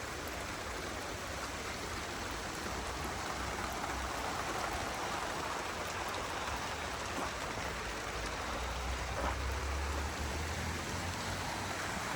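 Morning rain falls steadily, a constant broad hiss of water on surfaces with no let-up and no voices.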